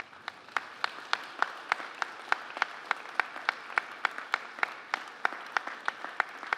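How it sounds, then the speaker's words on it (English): Graduates at a creative technologies graduation ceremony applauding family and friends, a faint wash of crowd clapping with one loud, steady, evenly spaced clap standing out near the microphone; no clear cheering. "Please stand up and give your family and friends a big round of applause and some cheers."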